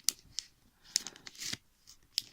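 Scissors cut through material in a few quiet, irregular snips and crisp clicks, with soft rustling between the cuts.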